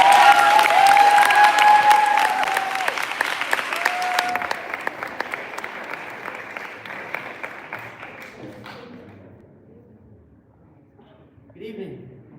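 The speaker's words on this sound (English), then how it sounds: "Please give a round of applause for John F. Lopez." An audience at the 2026 Colorado LDZ Awards Ceremony applauds, starting loud and full with a tune playing alongside, then tapering to scattered claps and near silence before a faint murmur returns.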